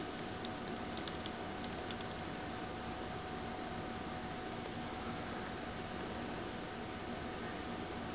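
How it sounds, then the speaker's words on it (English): A name is typed on a computer keyboard, a quick run of light key clicks over a soft steady background hiss, with the clicking strongest early on and fading toward the end. "I'm going to just type in my name."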